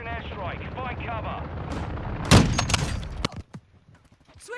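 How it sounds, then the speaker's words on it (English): An enemy precision airstrike in a video game lands with a sudden loud blast and a rolling crackle of explosions that fades out. A voice talks just before the hit. "Enemy precision airstrike."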